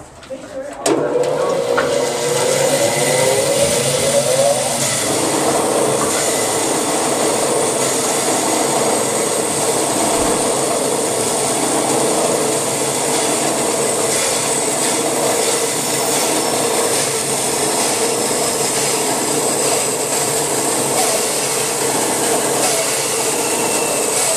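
A bandsaw cuts through wood for a cheese knife holder, a loud steady whirring rasp that holds for over twenty seconds after a brief start-up, continuous and close.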